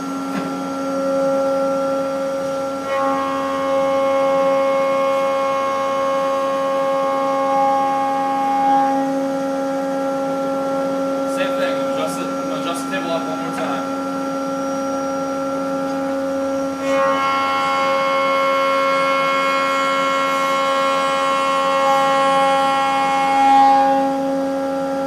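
A wood planer is switched back on after a half-turn depth adjustment, and it runs as a loud, steady mechanical drone with strong tonal hum. The pitch shifts as boards feed through, with no talking.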